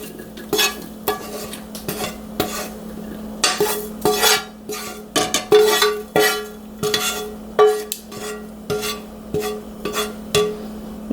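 Vegetables are scraped and tipped from a frying pan into a slow cooker, with a close, loud run of repeated utensil scrapes and clatters against metal lasting several seconds.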